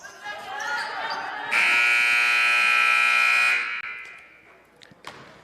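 Loud, sustained electronic buzzer signaling halftime at a boys' basketball game, sounding for about two seconds over gym noise and bouncing balls, with a commentator talking before and after.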